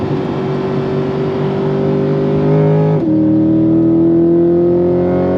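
A loud 6.2-liter LT2 V8 engine of a C8 Corvette Z51 Stingray launches, roaring and climbing in pitch, then drops briefly on a quick gear change before pulling hard again, deep and throaty up close.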